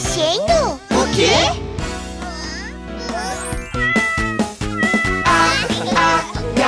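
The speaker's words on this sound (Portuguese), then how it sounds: "Ah, ah, gatinho fofo, o gato está na caixa." A cat meows from inside a box in a children's song, with several bright, drawn-out meows sung over a busy musical backing.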